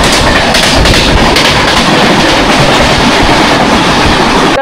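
A Paharia Express passenger train with blue coaches pulls into Howrah railway station, giving a loud, steady rolling rumble with rhythmic clickety-clack of wheels over rail joints that continues without a break.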